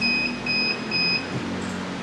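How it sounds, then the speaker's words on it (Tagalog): A digital weighing scale beeps on power-up, sounding a series of short, evenly spaced high tones over a low background hum. "And kapag nag-operate na siya, mag-beep siya ng 10 times."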